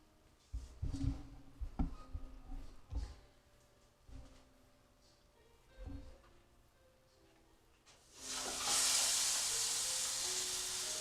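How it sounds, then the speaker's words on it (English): Seasoned chicken dropped into hot olive oil bursts into a loud, steady sizzle that holds for several seconds, after a stretch of quiet kitchen clatter and handling noises. "and did you hear that sizzle?"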